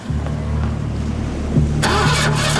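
A boat's engine sputters with a steady low mechanical rumble and a brief knock, then a louder roaring burst near the end, close and prominent.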